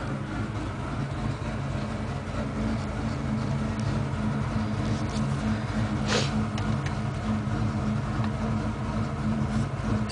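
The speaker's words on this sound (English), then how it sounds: "Idle slowed down a little bit." A parked car's engine idles steadily at a low rumble, the idle easing down slightly, with a constant hum and no other clear sounds.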